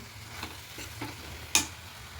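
Mung dal frying in a pan with chopped onion greens, a steady low sizzle with soft scraping stirs and one sharp clatter near the end; no voices.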